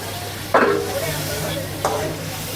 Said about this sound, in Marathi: असं तडतड तडतड आवाज आला पाहिजे